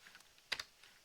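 A computer keyboard is typed on quietly, with a couple of soft key clicks close together and a faint tap or two around them, and no voices.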